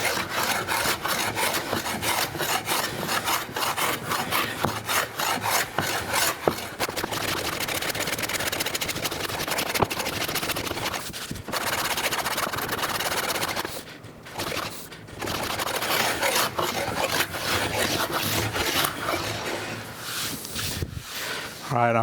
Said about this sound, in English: I'm just trying to make that sanding job a little bit easier by hitting it with the plane first